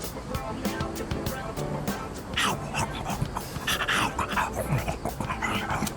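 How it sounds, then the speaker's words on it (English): A stray dog in the video game Persona 3 Reload whimpers and pants in short yips and whines, close and moderately loud over busy game sound effects. "It's a stray dog that chased that boy around a little while ago. He looks like he's in bad shape."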